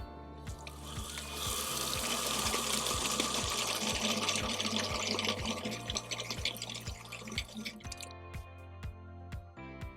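Water flows through a 3D-printed flow meter, trickling and splashing continuously while a steady rhythmic clicking pulses beneath it, close and fairly quiet, before the flow thins out near the end.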